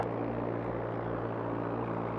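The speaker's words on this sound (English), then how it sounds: "This looks like the spot to set the plane down. I'll pull up to the jetty and you can climb out." A seaplane in theHunter: Call of the Wild drones with a steady, continuous engine hum at moderate loudness, holding a constant low tone throughout.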